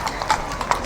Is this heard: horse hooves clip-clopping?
yes